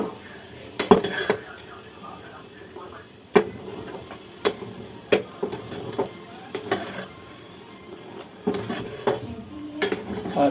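Hot milk stirred slowly in a pot as lemon juice is added to curdle it, with a spoon giving sparse light clinks and scrapes against the metal, a faint voice now and then.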